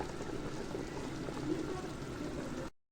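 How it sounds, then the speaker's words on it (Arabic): Broth being poured into a pot of cooking rice, a steady close watery pour and bubbling that runs for a few seconds and then cuts off. "الرز اهو ضفت له شوربه"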